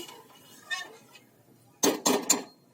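A metal lid settles onto a pot of rice set to boil with a little salt, giving three quick clanking clinks after a quiet, faintly murmuring stretch.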